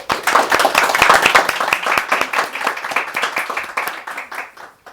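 Warm applause greets a guest at a healing-themed salon session, a small crowd clapping loudly and close at first, then gradually thinning into scattered claps before dying out.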